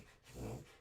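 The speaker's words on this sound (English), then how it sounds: "That's my dog. She's snorting something." A dog gives a single short, quiet snort, a brief nasal puff of air that swells and fades in under a second, heard close and alone.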